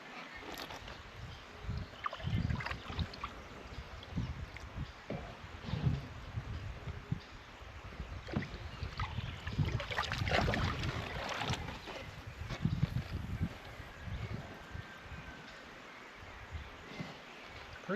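Water drains out of a water tank through a drain valve with a continuous rushing, gurgling flow outdoors. Low rumbles and uneven surges run under it, with no talk.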